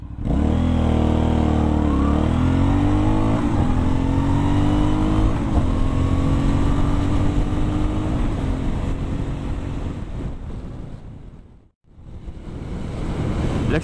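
An Aprilia Shiver 900 motorcycle, restricted to 47 hp, pulls hard from a standstill to 100 km/h, its engine note climbing loudly through several gear changes before easing off, with a brief dip and a rev back up near the end.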